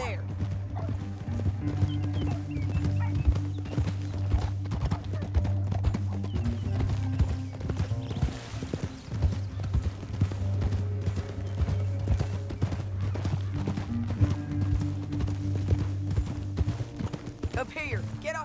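Galloping horses drum in Red Dead Redemption 2, with steady rapid hoofbeats throughout, occasional snorts and a whinny, under a sustained musical score, while game characters talk.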